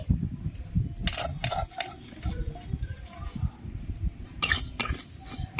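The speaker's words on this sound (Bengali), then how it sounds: "মুগ ডালটা ভেজে নিচ্ছি" Moong dal being dry-roasted in a pan, stirred with a spoon that scrapes and clinks against the metal; close, steady rustling with a few sharper taps.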